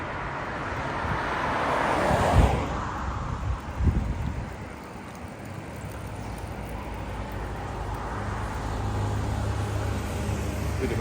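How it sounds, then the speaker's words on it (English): Street traffic rolling past on a roadside in Vietnam, a steady broadband wash of cars and engines with a louder pass swelling near the start, then settling into a continuous moderate roar with no talk. "It's quite noisy when you're recording and you've got the traffic behind you."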